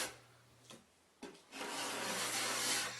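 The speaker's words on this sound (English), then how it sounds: "it's best to get most of it off the first go, like this, with a scraper" A hand scraper strips old shellac and varnish from wood panelling, giving two short rasping pulls followed by a long, steady scraping stroke, close and clear.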